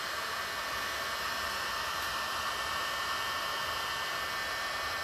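A hair dryer blows hot air onto stickers on a Suzuki V-Strom 650 motorcycle, a steady close-up whooshing hiss with a constant motor whir and no other sounds.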